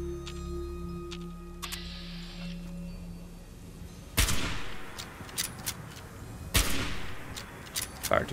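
Two loud gunshots from Fallout 76 ring out a couple of seconds apart, each with a lingering tail, followed by smaller in-game clicks and thumps over a faint hum.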